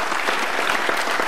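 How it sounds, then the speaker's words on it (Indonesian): A crowd at an Indonesian presidential candidate event claps steadily, a dense, even wash of applause filling the whole moment without a break. "boleh diberikan tepuk tangan Pak Jokowi"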